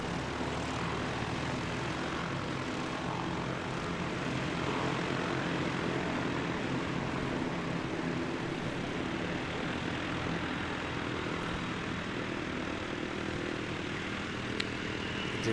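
Airliner pushing back at Christchurch Airport, heard as a steady, broad engine and propeller drone that holds at an even level throughout, with no voices.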